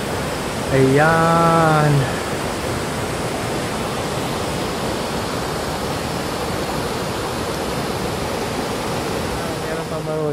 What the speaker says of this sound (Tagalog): Tapos ito, makikita nyo dito may falls.